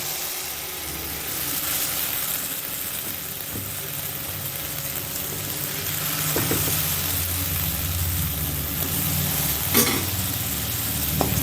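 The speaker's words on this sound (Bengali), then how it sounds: "আমি এবার দিয়ে দিচ্ছি তেলের মধ্যে" Homemade kurkure snack frying in hot oil over a medium-high flame, a loud continuous sizzle and hiss with soft stirring scrapes building gradually over several seconds.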